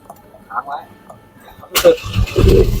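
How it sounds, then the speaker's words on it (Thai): A four-door Ford Ranger XLT pickup with a manual gearbox starts up, the engine catching abruptly and settling into a loud, close rumble after a short stretch of quiet cabin sound with someone talking. "เดี๋ยวเราจะสตาร์ทรถให้ดูนะคะ"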